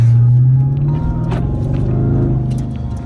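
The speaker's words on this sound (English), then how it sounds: "You gotta love that V8. I don't know if you guys can hear it through the camera, but man, does that sound good." A Dodge Charger Scat Pack Widebody V8, just back from accident repair, rumbling loudly close by with a deep steady throb that swells a little mid-clip, no voices over it.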